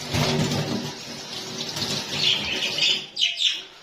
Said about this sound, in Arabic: طبعا تغسلي ايدك